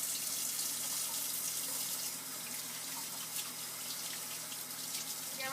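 Warm water runs continuously from a kitchen tap for hand washing, a steady hissing splash that stays even from start to finish.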